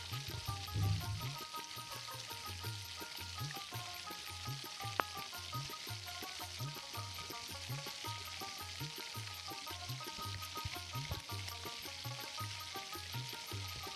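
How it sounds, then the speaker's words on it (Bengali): Cut potato pieces fry steadily in oil in a pan, giving a soft continuous sizzle with a faint regular pulsing underneath and one brief click partway through; no talking. "এগুলোকে ভালো করে লাল লাল করে ভেজে নিয়ে আমি তুলে নেব।"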